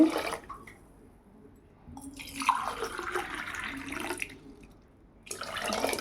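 Tumblers of water splash and gurgle into a pot of varagu millet and rice in three separate close pours, with quiet gaps between them.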